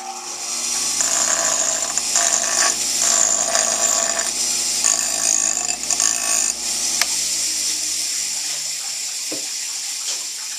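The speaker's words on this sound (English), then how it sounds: "So I'll just grind for 1 second here just to show you." A power grinder works against the bottom of a pot, a loud continuous harsh whirring and scraping up close that runs for about eight seconds before winding down.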